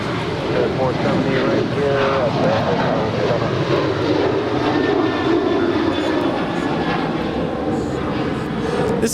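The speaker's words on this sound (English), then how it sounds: "This is Alaska Airlines Flight 817 departing to Honolulu. It's a 10-year-old 737-800 in the Disneyland Pixar Pier livery." An Alaska Airlines Boeing 737-800 departs Los Angeles International Airport, its jet engines producing a loud, continuous roar with a slowly shifting pitch that fills the whole stretch, while a voice talks over it.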